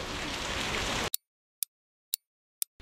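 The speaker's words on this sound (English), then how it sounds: "It is pouring rain." Heavy pouring rain in Hvar, Croatia, fills the opening second as a dense, loud hiss, then cuts to near silence broken by a few sharp isolated clicks.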